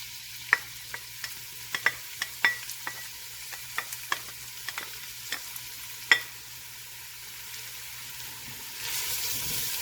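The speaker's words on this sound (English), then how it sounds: "we're essentially doing almost like a shallow fry with these" Carrots and onions shallow frying in a pot for borscht, mostly stirring with irregular scraping clicks and taps over a soft background hum, with a faint sizzle rising near the end.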